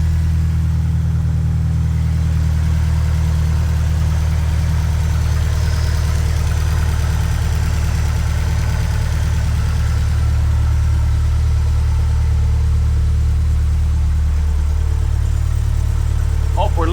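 Subaru STi project car engine idling just after its build, a loud, close, steady low rumble holding for the whole stretch with little change in pitch.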